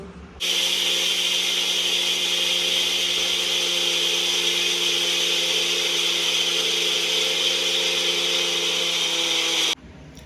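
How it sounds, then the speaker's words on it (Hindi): A small electric mixer grinder grinding flax seeds runs loudly and steadily with a high whining motor and gritty churning, starting and stopping abruptly. "ये मिक्सर ग्राइंडर में पूरा पिस गया है"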